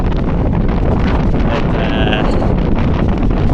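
Loud, constant wind buffeting a microphone on a seafront, a heavy rumbling roar with gusty fluctuation and no clear speech.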